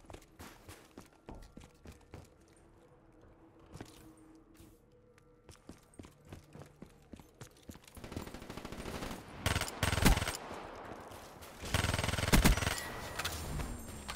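Gunfire in the video game Vesper begins as scattered single shots and soft footsteps, then grows into louder rapid bursts of automatic fire toward the end, fairly close.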